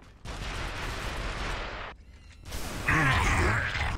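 Blap cannon firing in an action shooter game, with dense, loud bursts of blasting noise, a brief pause, then another heavier roaring volley.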